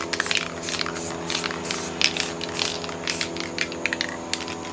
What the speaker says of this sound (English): Just take your spray paint cap and just do that